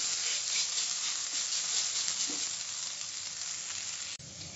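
Mushrooms and capsicum fry in a pan with a steady, close sizzle while being stirred, faint scraping and rubbing mixed into the continuous hiss, with no talking.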